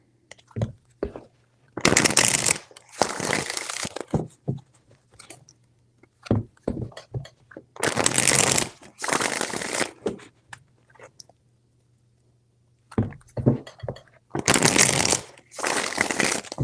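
Tarot cards are shuffled in several separate bursts of crisp riffling and flapping, close and fairly loud, with quiet gaps and small handling clicks between them.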